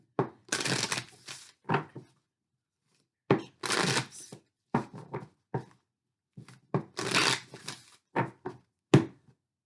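Tarot cards are shuffled in several distinct bursts of riffling and slapping, each lasting about a second, close and crisp, separated by short silent pauses.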